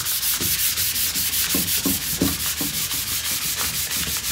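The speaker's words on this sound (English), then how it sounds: "I treat it just like a piece of sandpaper because in essence that's what it's doing, it's sanding the finish." A rubbing pad sanding the finish on a 1960s Norman Cherner chair makes a close, rhythmic scrubbing sound, about a dozen quick back-and-forth strokes in steady succession, with no talking.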